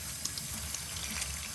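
Onion skins being rinsed by hand under a running kitchen tap in a sink, a steady close stream of water with small splashes and handling sounds.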